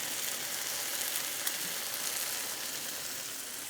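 Burgers frying steadily on a Weber kettle flat top griddle insert, a continuous close sizzle and crackle of smash burgers with melted cheese, without any talking.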